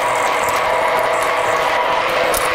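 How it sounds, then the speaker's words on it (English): Drilling with a 6mm bit through pre-hardened 4340 (EN24) steel, using coolant, in a workshop: a steady, loud grinding and rattling mechanical whine that continues without pause and with no talk. "Just going to drill through with a 6mm drill, quarter inch or so. This is pretty hard steel."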